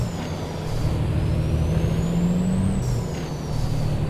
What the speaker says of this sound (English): I just love listening to this engine.